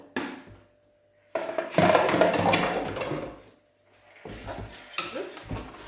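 Meat tips into a hot pan of lightly browned sauce for a beef carbonade braised with amber beer and is stirred around. A short clatter comes first, then a loud hissing sizzle that fades, followed by further scraping and stirring.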